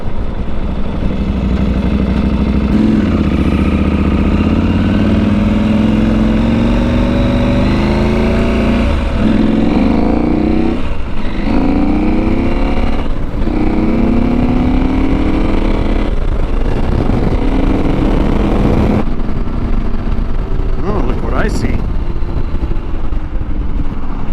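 KTM 790 Adventure R motorcycle on the road, its engine loud and continuous from the rider's position, rising and falling in pitch through repeated gear changes and accelerations.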